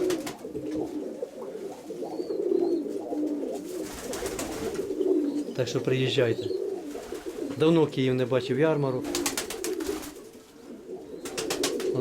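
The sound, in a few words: pigeon cooing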